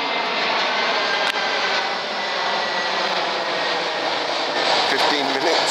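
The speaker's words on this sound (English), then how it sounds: "I can hear an airplane. There's airplanes flying over here" An airplane passes overhead near Geneva Airport, its engine roar loud and continuous throughout, with a voice talking beneath it.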